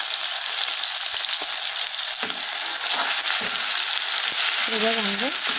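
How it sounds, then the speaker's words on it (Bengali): Onion, ginger and garlic paste masala frying in a pan over medium-low flame, a steady loud sizzle running throughout with occasional stirring scrapes and no talking. "টু লো ফ্লেমে মশলাটা ভালো করে ভেজে নেব।"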